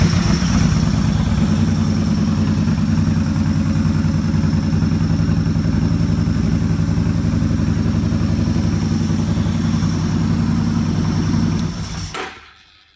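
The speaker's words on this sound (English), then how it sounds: "I'm going to go ahead and turn it on, and we're going to crank it." A car with keyless ignition idles steadily and fairly loud and close, a constant low engine hum with mechanical clatter running throughout, then cutting off abruptly near the end.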